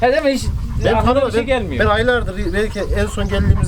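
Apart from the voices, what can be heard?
No distinct noise like a dog, phone or traffic.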